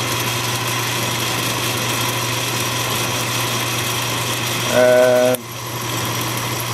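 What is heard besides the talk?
Atlas/Craftsman 618 lathe running its lead screw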